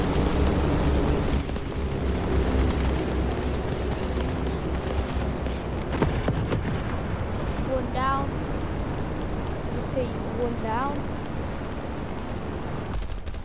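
Enemy fire and explosions in the War Thunder video game form a dense, continuous rumble of booms and gunfire, with a few brief voice-like calls partway through.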